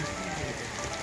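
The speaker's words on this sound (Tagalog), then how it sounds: "Lakas ng ulan." Heavy rain pours down, a dense, constant hiss and patter of drops hitting surfaces, steady and close for one second.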